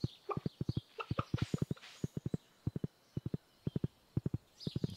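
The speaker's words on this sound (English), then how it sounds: "Let's get on the horsey and go" Horse hooves clip-clop in a steady trotting rhythm while riding through a farm in Stardew Valley, with faint bird chirps and a brief rooster-like call in the background; no talking.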